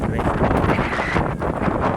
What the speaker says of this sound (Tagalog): At malakas yung hangin.